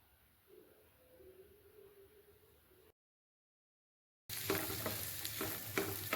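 Finely chopped onions frying in oil for a spicy dried fish thokku, a low sizzle with a faint tonal whine, then a brief silence before louder frying with stirring scrapes and clatter close by.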